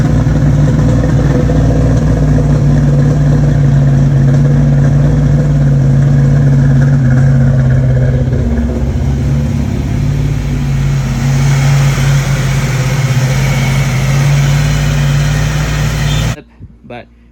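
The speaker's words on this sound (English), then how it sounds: "So did get the car started." A Foxbody Ford Mustang engine runs after starting, a loud, close, steady low drone with slight unevenness at idle, cutting off abruptly near the end; no voices over it.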